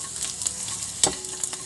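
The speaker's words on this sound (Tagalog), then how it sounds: "sasanggin ko muna itong aking panghalong tuyo" Dried fish sizzles in a pan of hot oil, a steady close crackling with occasional sharper pops and stirring clicks, no talking.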